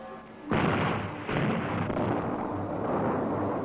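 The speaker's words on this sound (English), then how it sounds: "they drilled holes in the rock and loaded them with dynamite" Dynamite blasts tear through canyon rock during Hoover Dam construction: a sudden loud boom, then a second blast, each trailing into a long rumbling roar of echo and falling debris.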